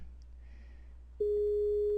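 A Skype outgoing call begins ringing: after a quiet moment of faint background hiss, a steady, clean electronic tone starts abruptly and holds evenly to the end, close and alone.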